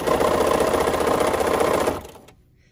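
A sewing machine stitches a quilt binding at a fast, steady run with an even mechanical rattle, then stops abruptly near the end and leaves silence.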